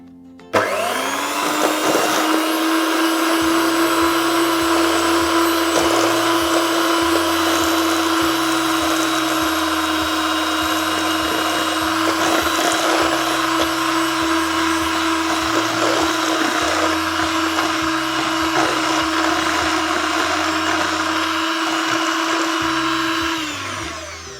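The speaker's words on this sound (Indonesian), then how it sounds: "kita akan kocok ya, diawali dengan speed 1 ya, speed rendah dulu" An electric mixer on its lowest speed beats the batter for a layered Lapis Surabaya cake, giving a steady, close, continuous motor whir that holds for the whole stretch with no talking.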